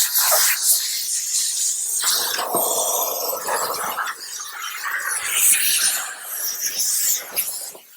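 Loud, continuous hissing of a steam cleaner spraying steam over a car exterior in freezing 15°F weather, pulsing in uneven bursts with brief dips as the nozzle moves across the surface.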